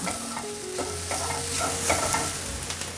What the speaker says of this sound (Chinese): 现在放入红萝卜， 快速拌炒